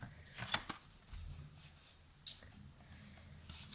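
Scissors trimming card paper for a handmade card, a few faint close snips and paper rustles spaced irregularly in a quiet room.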